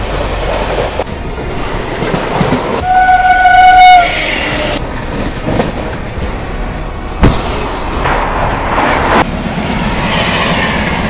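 The 12713 Satavahana SF Express runs along the track from Vijayawada toward Kacheguda, its loud rolling clatter broken by a single sustained horn blast before the wheels rumble on.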